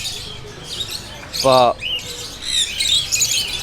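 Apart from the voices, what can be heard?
caged parakeets squawking in a market shop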